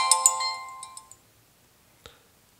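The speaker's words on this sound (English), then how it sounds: "Sorry, text message." A phone chimes with a short text message alert, a quick run of bright tonal notes that fade out over about a second, then one brief faint tick follows after a pause, with no one talking.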